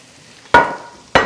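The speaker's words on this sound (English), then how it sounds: "It's really sizzling there, so that's good." Italian sausage, peppers and onions sizzle in a pan over medium-high heat, with two sharp bursts of loud hissing spitting over a quieter steady crackle.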